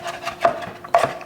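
Thin slicing on a cutting board for a summer crab pasta salad, two sharp knife chops standing out over light scraping and rubbing, close and fairly quiet.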